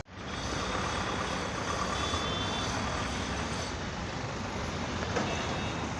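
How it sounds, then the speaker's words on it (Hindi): Tow truck arriving on a roadside for a broken-down Tata Nano, a loud steady engine and traffic rumble with faint repeated beeps under it and no talking. "अभी टोइंग वैन ये आ गया है"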